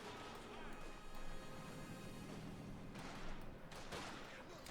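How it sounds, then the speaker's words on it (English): Artillery barrage and gunfire in Company of Heroes 2, with German artillery shelling retreating engineers: a dense, continuous wash of blasts, crashes and crackling shots that swells in a few heavier bursts. "Engineers falling back under a small yet withering barrage there, unleashed by the Germans' artillery"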